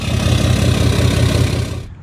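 A 2012 Dodge Cummins 6.7 diesel pickup with a large exhaust tip idles loudly and close by with a steady, low rumbling throb, then cuts off abruptly at the end.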